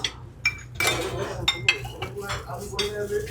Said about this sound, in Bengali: চামচ নিয়ে নিলাম।